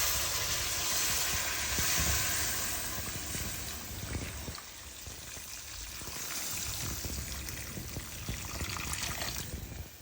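Hot water pours steadily into a pot of chicken curry, a continuous splashing rush that eases slightly midway and then carries on until the end.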